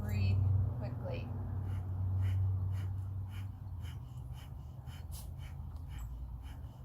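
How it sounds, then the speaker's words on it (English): Quick, rhythmic yoga breathing exercise done at a steady pace, breaths pulsing close and fairly loud against a low background hum. "inhale part way, and then we'll begin to breathe quickly."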